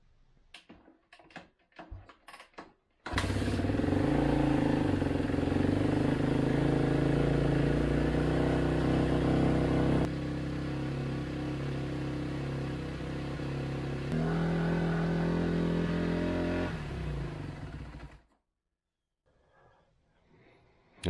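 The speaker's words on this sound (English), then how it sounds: "So I think what I'm going to do is warm this bike up and see if she'll idle after that." A 2011 Kawasaki KX250F dirt bike engine warms up after a few clicks and brief sputters, then runs loud and close for about fifteen seconds with shifts in revving pitch before cutting off.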